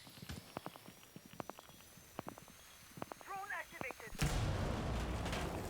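A pre-placed C4 charge detonates in a Rainbow Six Siege esports match: after footsteps and small game sounds, a sudden loud blast cuts in and its rumble lingers to the end.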